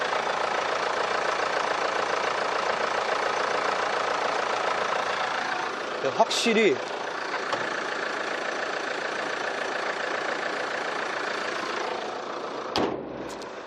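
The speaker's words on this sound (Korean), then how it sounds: "일단은 엔진 소리도 정갈해요" A 2017 four-wheel-drive SUV's engine idles steadily with a constant, even rumble. A voice speaks briefly, and a couple of short clicks occur.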